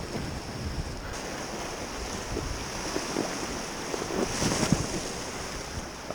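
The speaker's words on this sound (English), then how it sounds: "A couple more Class 2 rapids." Rushing whitewater of Class 2 rapids in Desolation Canyon while packrafting, a continuous broad roar of churning water mixed with wind buffeting the microphone, with no voices.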